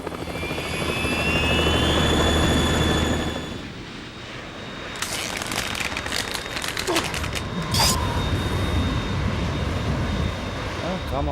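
A Harrier jet in the video game Metal Gear Solid 2 gives a loud, sustained engine roar that fades after a few seconds, followed by sharp clanks and bursts of game action.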